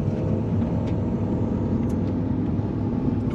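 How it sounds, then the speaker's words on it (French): A Renault Mégane RS set up for track use drives on a circuit, heard from on board as a steady, dense engine and road rumble with no break and no talk. "Donc on est à bord de cette magnifique Mégane RS configurée justement pour la piste."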